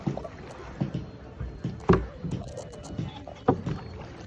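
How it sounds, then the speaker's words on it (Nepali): A rowboat glides on a lake at Pokhara, with soft oar strokes and splashes arriving every second or so, near and fairly quiet, with faint voices in the background. "डुङ्गा चलाइरहेको छिन्"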